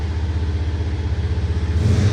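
Engine of a car being worked on in a garage, near a 1971 Chevrolet Camaro, a steady low rumble that swells slightly at the end, continuous and fairly loud with no talk.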